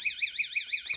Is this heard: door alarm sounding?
yes